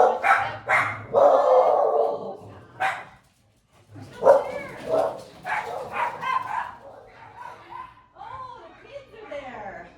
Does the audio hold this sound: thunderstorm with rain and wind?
no